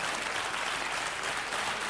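Studio audience applauding in a prison, Granada 3 in Spain, for a television show: dense, even clapping from a large crowd, loud and close, with no voices over it.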